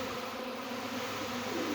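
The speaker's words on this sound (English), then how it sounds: "And there's a bee on my arm." A honey bee buzzes close by during swarm season, a faint, continuous steady drone with no voices over it.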